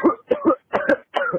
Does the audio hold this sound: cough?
yes